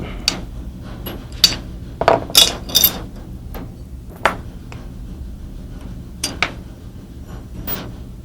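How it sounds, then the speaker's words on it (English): Small metallic clicks, ticks and light scrapes come up close and intermittently as pins are taken out of a pistol trigger mechanism during gunsmithing, with quiet pauses between the sharp little sounds. "Taking those two pins out."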